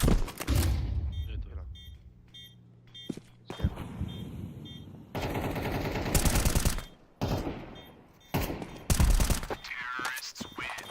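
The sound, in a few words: shotgun gunfire in the video game Counter-Strike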